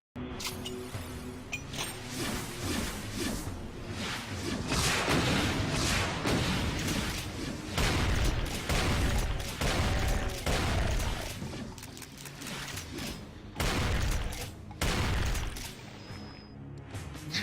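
Rocket launcher blasts and explosions from Doom 2 gameplay, a dense, loud barrage of repeated booms and crashing bursts layered over one another, with brief lulls before more blasts erupt.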